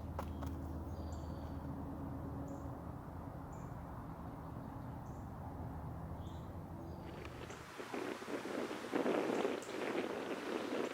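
Steady wind rushes across an outdoor disc golf course as a broad, continuous blustery noise, turning rougher and more gusty toward the end.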